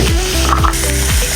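Paneer frying in hot oil in a home kitchen pan, a loud steady sizzle with scraping stirs and clinks from a utensil repeating about every half second.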